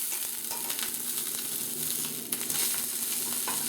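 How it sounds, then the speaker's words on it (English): Scallop lightly searing in a hot pan at home gives a steady, close frying sizzle that fills the whole stretch, with brief crackling pops and no voices. "Okay, so this is our scallop. It's lightly seared."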